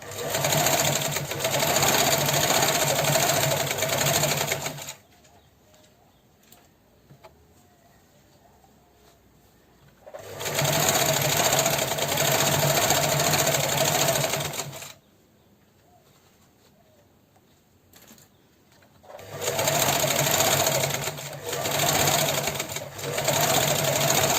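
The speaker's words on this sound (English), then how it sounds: "Guys, I'm not pushing the fabric, the machine does that for me." A sewing machine stitches fabric for lounge shorts in three loud, steady runs of several seconds each, separated by quiet pauses.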